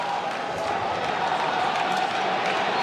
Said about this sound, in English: the crowd are on their feet. They're geeing him up. They're chanting his name